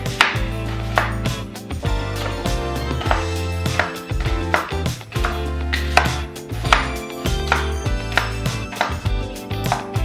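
A knife chops fresh Trader Joe's apples on a cutting board in a home kitchen, a run of quick, close, steady chops with background music throughout.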